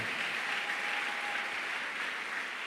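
A church congregation applauds together at a worship service, a continuous dense wash of clapping heard from within the crowd, steady and even throughout with no talking over it.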